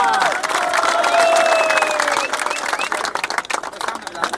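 A crowd applauds and cheers at a school cricket final prize giving, dense clapping mixed with shouts and whistles at moderate distance, with a voice speaking through an amplified announcement over it.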